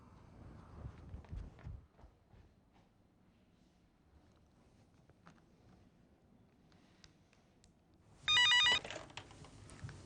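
A telephone rings near the end with a short, loud electronic trill burst in a quiet indoor room, following faint household sounds.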